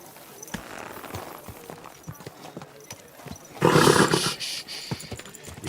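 A horse in the video game Kingdom Come Deliverance 2: steady hoof clip-clops with light ambient noise, then a sudden loud neighing snort that fades back to hoofbeats.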